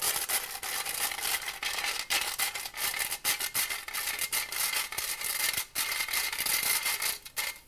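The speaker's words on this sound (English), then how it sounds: "And sift this all into the mixture." Flour mixture for pancakes is sifted into a bowl, making a continuous dry rasping and rubbing hiss with quick uneven pulses, close and steady throughout.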